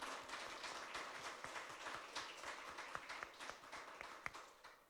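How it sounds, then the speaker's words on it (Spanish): A church congregation applauds during a service: faint, dense clapping with scattered sharper hand claps, heard from a distance and sustained throughout. "Den el aplauso al Señor."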